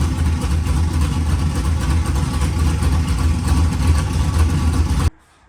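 A cammed LS V8 swapped into a Mustang drift car idles loudly up close, a rough, lopey, deep rumble holding steady for about five seconds before cutting off abruptly into silence.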